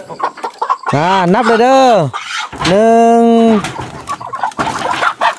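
Chickens in a newly built coop for the Tong Luang forest people, giving loud, drawn-out clucking calls close by, with people talking in between.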